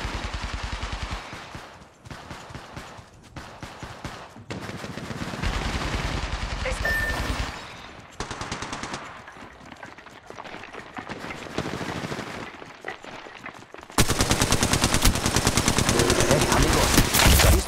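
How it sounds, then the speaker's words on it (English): Automatic weapon fire rattles in rapid bursts during an Apex Legends Mobile squad battle, dense and loud throughout with brief gaps, swelling into a sustained barrage near the end. "Getting shot at."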